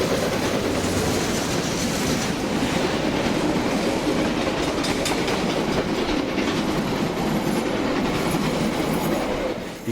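A passenger train on a main trunk line sprints south through Taupiri, its steady loud roar and rhythmic clickety-clack of wheels filling the whole stretch, with a faint wheel squeal and no voices.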